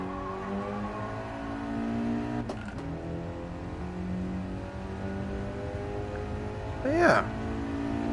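A turbocharged car in GT Sport accelerates with a droning engine note whose pitch shifts up and down across gear changes, steady and fairly loud beneath someone talking.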